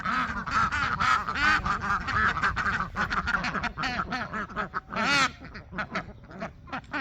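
Ducks quack loudly and continuously, a dense overlapping chorus of many nearby birds calling at once.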